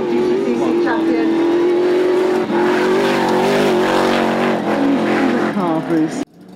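Off-road cross-country race vehicle at a motorsport hillclimb event, its engine droning and surging steadily as it drives past, loud throughout under continuous commentary, cutting off sharply near the end.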